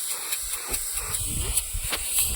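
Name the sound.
steam hissing from pressure cooker with whistle removed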